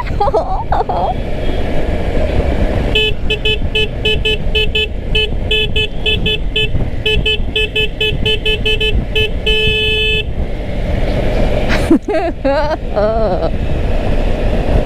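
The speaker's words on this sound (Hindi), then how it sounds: "सुनता ही नहीं है पब्लिक अपने इंडिया में हॉर्न के बिना" Car horns honk in repeated toots and longer blasts on an Indian street, loud and close over steady traffic noise, with people talking nearby.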